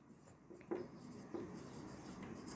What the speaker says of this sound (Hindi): तो जो फॉर्मूला यूज कर रहे हैं उसको हम लिख लेते हैं।